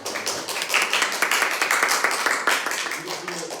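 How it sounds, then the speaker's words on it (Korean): A smallish room of people at a civic policy forum in Incheon gives a brief round of clapping in thanks to the speaker, fairly soft and uneven, with voices mixed in. "감사의 박수 한번."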